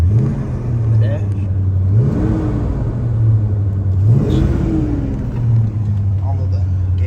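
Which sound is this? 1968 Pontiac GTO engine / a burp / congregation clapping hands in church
1968 Pontiac GTO engine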